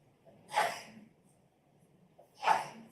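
Two short, sharp sneezes, about two seconds apart, break the near-silence of a courtroom during a murder trial.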